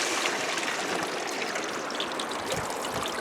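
Water pours steadily off the back of a motor-pumped gold sluice machine, a loud, continuous broadband rushing and splashing that stays constant throughout with no speech.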